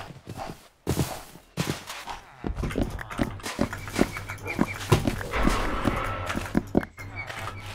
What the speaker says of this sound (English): That was a horse.